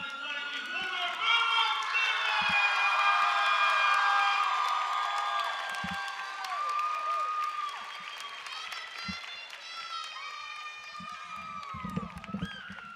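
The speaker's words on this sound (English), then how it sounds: "let's give a huge round of applause for your 2020 Woodward" A crowd at a Woodward High School versus Sayre high school basketball senior night claps and cheers for the 2020 seniors and dance team, with shouts and whoops over sustained applause and a few thuds in the gym.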